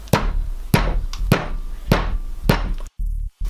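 Five sharp, evenly spaced hammer taps on wood, close and distinct, followed by a brief quiet pause.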